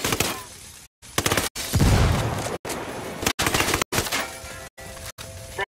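Frag grenade blast and gunfire in Ghost Recon Wildlands: a loud, broad low burst near the middle amid repeated bursts of shots and crackling debris, broken by short silent cuts.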